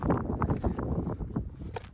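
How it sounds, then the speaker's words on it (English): Gusty outdoor wind buffets the microphone in continuous low rumbling thumps and rustles, with no clear voice over it. "hopefully you guys can hear me with this wind"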